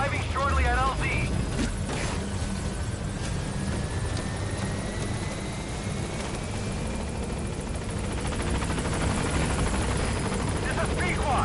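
The Pequod helicopter, Metal Gear Solid V's transport chopper, arrives at the landing zone, its rotor drone loud and continuous throughout, with a radio voice talking over it.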